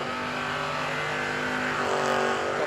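Chevy II drag race cars, one first generation and one second generation, accelerating hard down the strip at a fall drag racing event, producing a loud, sustained engine roar that stays steady and close throughout.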